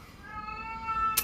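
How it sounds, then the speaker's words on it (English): A partially deaf house cat lets out one long, loud, drawn-out meow close by, with a brief sharp noise near the end and no one talking. "so she does these big meows."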